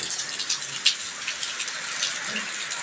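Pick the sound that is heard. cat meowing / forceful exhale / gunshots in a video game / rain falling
rain falling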